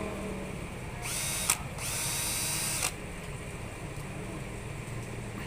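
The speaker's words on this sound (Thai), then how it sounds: "มีอันนี้เจาะกระแทก เจาะกระแทกนะครับ นี่เจาะกระแทก เจาะปูน" A Makita three-mode hammer drill in hammer mode whirs in a high whine for almost two seconds, briefly pausing once, then stops, leaving steady low background noise.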